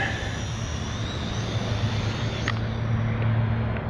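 A WLToys Q333 mini quadcopter drone flies close by as it comes in to land, giving a steady high-pitched whine of small spinning rotors with a faint shift in pitch near the end.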